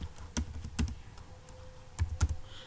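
Keys clatter on a computer keyboard while Java applet code is typed, a few separate clusters of clicks with short pauses between them, close up over a faint room hum.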